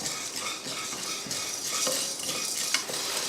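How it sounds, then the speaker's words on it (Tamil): Lentils and curry leaves are dry-roasted in a pan for a mutton curry masala, giving a continuous dry rustling and scraping as the spoon stirs, with light clinks against the pan. "இப்போ இதெல்லாம் சேர்த்து நல்லா வறுத்தரலாம்"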